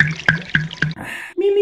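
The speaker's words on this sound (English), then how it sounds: "Let's get a sip of my water." Someone sipping water up close: a few quick wet drips and sips in an even rhythm, followed by a breath and a short hummed tone, no talking.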